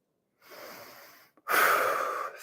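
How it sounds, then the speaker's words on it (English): A single slow breath is drawn in through the nose, then a louder, breathy exhale follows out through the mouth. The breath is close and clear against silence. "6 breaths in the nose, out the mouth"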